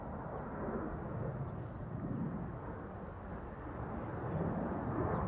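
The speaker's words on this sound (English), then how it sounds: "Next departure is going already. It's KLM flight 661 to Houston in Texas, a 7879 Dreamliner" A KLM Boeing 787-9 Dreamliner departs Amsterdam Schiphol under a northerly wind, giving a steady, broad jet roar heard from a distance that holds at an even level throughout, with wind noise on the microphone.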